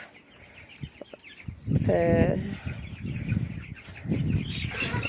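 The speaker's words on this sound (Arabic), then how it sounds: "اهي دي دورة فراخ يا حبايبي، انا جايبة 20 فرخ." Chickens cluck and squawk close by in a small backyard flock of about twenty birds, with someone speaking over the busy, uneven calls.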